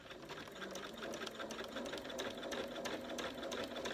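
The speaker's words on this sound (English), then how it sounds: "I'm just going to sew it with a normal stitch" A sewing machine runs a straight stitch along the zip seam of a cushion back, giving a continuous close rapid mechanical chatter at a steady pace.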